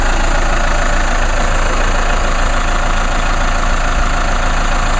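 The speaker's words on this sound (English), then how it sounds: "now the idle has now gone down, so now it should actually be a little bit quieter now" A 2014 Chevrolet Cruze turbo diesel engine idles steadily and loudly up close, a constant broadband drone with a slight knocking texture and no voices.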